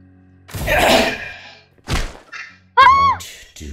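A flashbang thrown in the Roblox game Pressure lands with a few heavy thuds and a sharp bang, loud and close, separated by short gaps.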